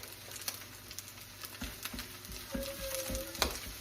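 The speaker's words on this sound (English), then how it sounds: "I'm going to let that egg cook and scramble for a minute." An egg frying and being scrambled with rice in sesame oil gives a soft sizzle with scattered stirring scrapes and taps, close by and fairly quiet, with no voices.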